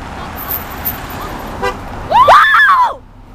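A passing car's horn blares loudly at a roadside spot, a short sharp blast rising out of traffic noise, preceded by a faint tone and fading as the vehicle passes.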